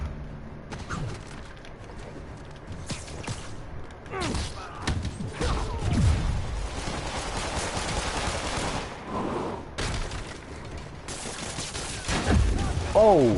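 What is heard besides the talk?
gunfire in video game Shadow of War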